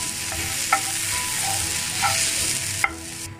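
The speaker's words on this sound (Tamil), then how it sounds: "தேங்காயை ஆனால் ட்ரை ரோஸ்ட் பண்ணிக்கலாம்." Grated coconut dry roasts in a pan with a steady close sizzle and crackle, while a spatula scrapes and stirs it in a few distinct knocks and scuffs.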